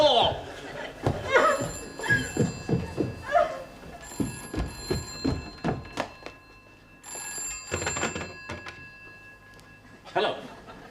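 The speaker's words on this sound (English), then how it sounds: "I've got to go and answer the phone, Clara." A telephone rings in repeated bright trilling bursts at home, mixed with people talking, thumps and movement around it.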